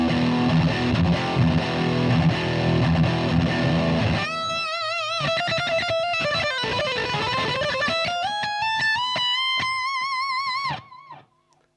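An electric guitar played through a TC Electronic Dark Matter distortion pedal chugs in thick, saturated bursts, then rings out with sustained distorted notes and bends before cutting off abruptly, loud and close.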